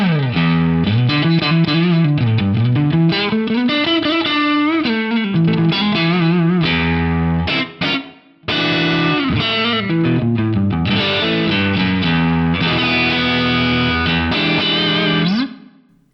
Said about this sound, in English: I've just changed the reverb to Recording Studio C.